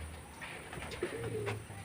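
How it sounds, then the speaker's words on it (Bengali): A Madras pigeon gives a soft, close coo, a short low rolling call over a faint background hum. "দেখুন পায়রাটা কত সুন্দর"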